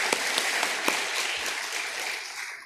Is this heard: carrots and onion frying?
no